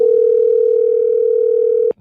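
A telephone tone sounds as one long, loud, steady note that holds unbroken for almost two seconds, then cuts off abruptly, on a live radio-style broadcast.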